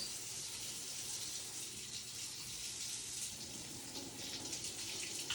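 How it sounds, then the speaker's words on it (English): Water runs steadily from a sink tap while hands are about to be washed, a constant close hiss and splash with no speech. "First things, I'm going to turn my water on."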